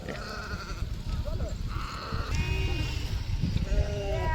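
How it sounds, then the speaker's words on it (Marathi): A ewe with her young lambs bleats repeatedly, wavering calls rising close by over a steady outdoor din, with people talking nearby throughout. "ती मेंढी विलेली आहे, तिची पिल्लं आहे"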